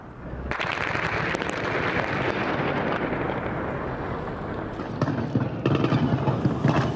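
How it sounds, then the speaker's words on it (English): Continuous heavy gunfire and blasts roar at close range in a face-off across a bridge in the war in Ukraine, dense and unbroken, with sharper bursts of shots toward the end. "Explosions and gunfire, a face-off across the bridge."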